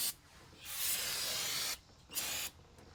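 Brake cleaner sprayed from an aerosol can onto a vehicle differential: a long close, loud hissing burst followed by two shorter spurts.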